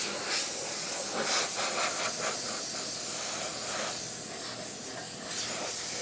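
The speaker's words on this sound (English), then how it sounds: "we have some forced air and we have the air chuck." Compressed air from an air chuck blowing water off car rubber and plastic trim, a loud continuous hiss with short bursts and flutters as the nozzle moves, close and without speech.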